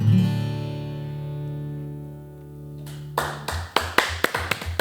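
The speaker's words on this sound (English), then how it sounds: "we'll get some applause in there from our engineer on that" Scattered handclaps from a lone studio engineer after a young singer-songwriter's song, a few sharp irregular claps starting as the last note fades, close and fairly loud.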